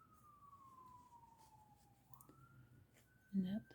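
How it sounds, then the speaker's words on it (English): Emergency vehicle sirens pass outside a quiet residential neighbourhood: a faint, distant wail glides slowly downward, then jumps and holds a higher tone, with a short louder thump near the end. "Oh, I got sirens coming by."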